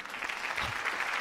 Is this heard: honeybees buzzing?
no